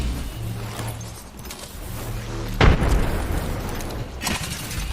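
A frag grenade detonates in Apex Legends, one sharp, loud boom midway through with a brief rumbling tail, set against steady gameplay noise and a later smaller burst.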